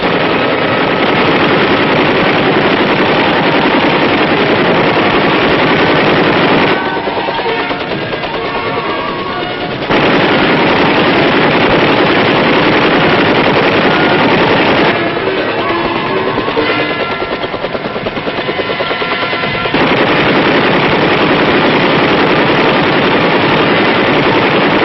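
Door-mounted machine guns on an armed Army Huey gunship hammer out sustained, loud bursts over a firing range, with a steady rapid chatter that dips briefly between long strings of fire.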